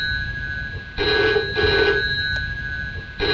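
A telephone in a video game rings in repeated electronic bursts, two long rings close together, steady and fairly loud over a low background hum, with no talking.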